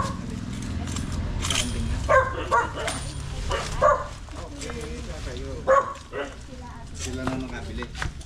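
Dog barks and yips come in short bursts several times over steady background noise, with people talking nearby throughout.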